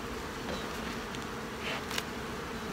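Honeybees at a strong, gentle hive of 17 to 18 frames hum in a dense steady drone during an inspection, with a few louder buzzes of single bees passing close to the ear.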